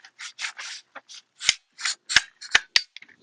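Pruning tool being clicked into place while trimming an areca palm: a quick run of about a dozen sharp, close metallic clicks and scrapes with short gaps between them.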